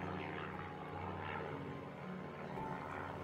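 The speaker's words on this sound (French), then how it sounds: "le grognement lointain d'un moteur d'avion" A distant airplane engine drones steadily and low, a continuous far-off rumble with no voices over it.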